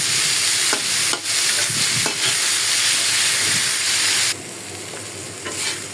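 Bitter gourd stir-fried over high heat, a loud continuous sizzle with repeated stirring scrapes, the frying hiss dropping slightly in level near the end.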